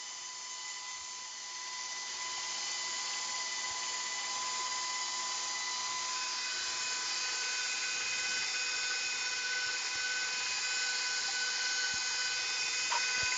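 A motorized pasta machine rolling spaghetti dough gives a steady, loud electric whine with a droning hum that holds unbroken throughout.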